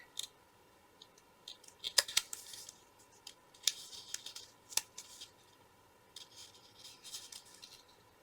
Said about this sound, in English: I'm going to fold this to the center,